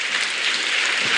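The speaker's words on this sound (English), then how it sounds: "Can you clap for talent, please?" Steady audience applause in a hall at a Kenyan education scholarship ceremony, a dense continuous patter of many hands clapping, fairly loud and sustained for about a second.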